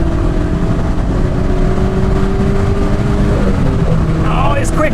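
First- or second-generation VW Golf GTI accelerating, heard from inside the cabin as a continuous engine drone with rising tones toward the end, while someone talks over it.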